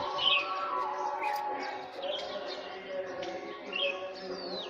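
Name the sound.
birds chirping outdoors in the morning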